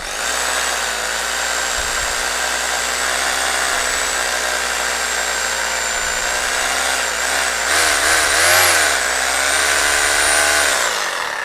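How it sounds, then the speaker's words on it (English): A Makita power drill runs continuously at close range, powered from an EcoFlow River 2 portable power station. Its loud, steady motor whine wavers slightly in pitch near the end. "this is a Makita drill"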